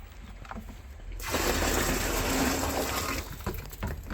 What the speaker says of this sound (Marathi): ते पाणी टाकून दे त्याच्यात ते पाणी टाकतो